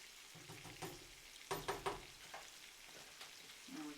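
Food cooking in a pan on high heat being stirred with a slotted spoon, soft sizzling with a few scraping clinks of the spoon, fairly quiet.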